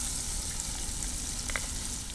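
Crushed garlic sizzles in about two spoonfuls of hot oil for a tempering: a steady, close, even crackling fry with a brief brighter spatter midway and no talking.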